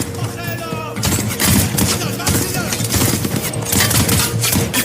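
Villagers fire guns at a special forces team in a film scene, with rapid crackling volleys and bursts of automatic gunfire that overlap continuously and loudly in a chaotic firefight.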